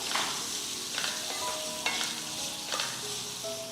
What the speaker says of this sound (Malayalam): നാരങ്ങ ചേർത്ത് കൊടുത്ത് ഇതുപോലെ ഒന്ന് ഇളക്കി കൊടുക്കാം